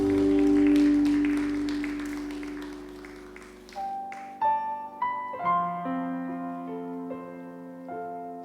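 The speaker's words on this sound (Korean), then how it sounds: "우리 하나님께 영광의 박수 올려드리겠습니다." A congregation applauds together at a Wednesday worship service at Yeouido Baptist Church, a dense, fairly loud clatter of clapping over sustained musical chords, dying away after a few seconds as gentle melodic notes carry on alone.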